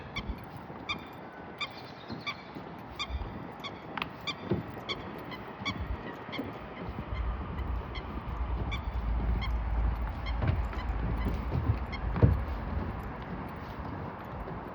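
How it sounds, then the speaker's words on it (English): Waterfowl honk and call repeatedly in the open during a nature walk, a scatter of moderately distant cries over a steady outdoor background, with a louder call near the end. "There, guys, see some ducks."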